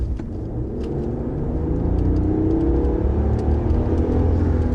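A pickup truck's engine rumbles loudly and close, its low growl swelling as it revs up and holds over several seconds.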